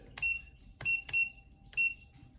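A Tiny Hawk S drone's beeper gives four short, sharp electronic beeps in an uneven rhythm, close but modest in level against a quiet background.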